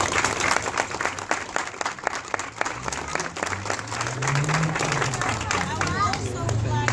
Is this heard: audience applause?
yes